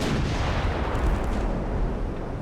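A torpedo striking a warship in the naval battle game Ultimate Admiral Dreadnoughts: a dense, sustained explosive roar with deep rumbling low end, loud and continuous throughout with no talking.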